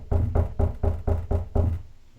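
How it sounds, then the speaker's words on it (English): Knuckles knock on a board held against a door, seven hollow evenly spaced raps at close range with no talk over them. "Now, when I knock on this board and it's not actually touching the door, there's actually an air gap."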